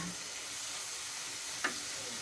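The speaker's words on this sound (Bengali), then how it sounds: "মরিচের গন্ধটা যাওয়ার জন্যে আমি একটু টমেটোর পানিটা দিয়ে দিলাম" Tomato water poured into chilli and turmeric masala frying in a pan for a fish and yardlong bean curry, giving a steady faint sizzle with one brief louder hiss partway through.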